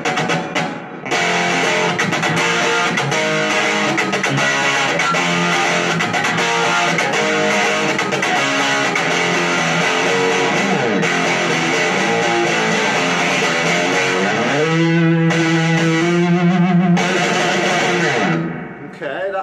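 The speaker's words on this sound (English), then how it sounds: "going to push this button here, as you can see, and that will give us overdrive" Electric guitar played through a Kinsman KGX15R 15-watt practice amp with overdrive engaged, giving a loud, continuous, distorted and rocky tone with sustained chords and a held note near the end.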